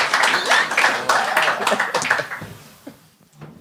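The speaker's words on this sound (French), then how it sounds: "gardez vos applaudissements pour le prochain Claude Junior" A TV game show studio audience bursts into loud, dense applause that holds steady before tapering off into a few scattered claps and quiet.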